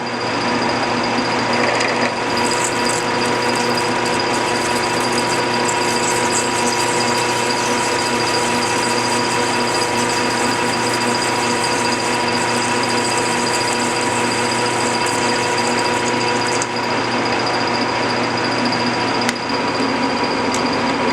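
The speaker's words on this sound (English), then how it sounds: "when this drill's cutting, I'm going to try to keep it cutting and not let it rub" A steady, continuous drill whine peck-drilling through metal during gearbox work on a scrap yard saw, loud and unbroken for the whole stretch with a faint high mechanical ring.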